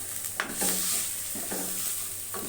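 Chicken sautéing for brown fried rice hisses in a hot pan with a steady sizzle, broken by a few sharp scraping stirs of the spatula and occasional clatter, close and alone with no talk.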